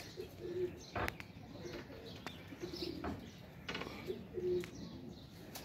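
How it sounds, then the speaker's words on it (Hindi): Pigeons coo softly in repeated low, throaty phrases, a few seconds apart, with occasional wing flutters and small handling clicks nearby, no one talking. "आपके सामने यार कबूतर है"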